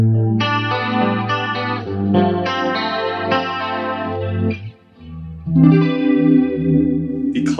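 Electric guitar tone sent through an Eventide H3000 rack unit set to tri-stereo delays in a vintage LA studio, with chorused, shimmering chords ringing out loud and alone, echoing repeats trailing each strum and a brief gap before playing resumes.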